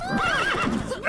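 Roach, a horse in The Witcher 3, gives a short, loud, close whinny with a wavering pitch that rises and falls.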